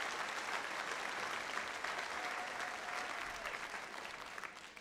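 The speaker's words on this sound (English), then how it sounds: "So give them a big, big round of applause." A large audience at a YFCU arts festival gala applauds steadily: dense, continuous clapping that fills the room and tapers off slightly at the end.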